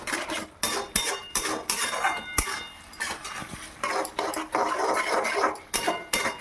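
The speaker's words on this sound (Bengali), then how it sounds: "তো এবার এটা আমি ভালোভাবে মিশিয়ে নেব।" A utensil stirs cornflour gravy for chilli fish in a metal pan, making rapid repeated scraping and clanking strokes in a busy irregular rhythm, close and fairly loud, with no voices.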